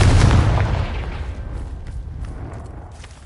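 A Confringo blasting spell goes off in Hogwarts Legacy with a single loud, booming burst that hits at once and then fades into a lingering rumble, with no voices over it.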